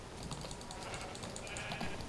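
Sheep bleating in Minecraft, a quiet wavering bleat over faint background noise and light clicking, short and soft with no talk.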